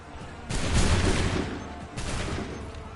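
Redcoat-era soldiers in Assassin's Creed 3 fire a musket volley, a loud, close, ragged crash of many shots together followed by a second, smaller burst of fire.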